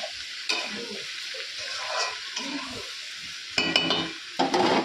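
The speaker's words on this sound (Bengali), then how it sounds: "কুমড়োটা ঘেটে দিতে হবে" Pumpkin curry being stirred in a kadai, a spoon scraping and turning the vegetables in a steady rhythm over a soft sizzle, close and fairly loud, with a few sharper clatters near the end.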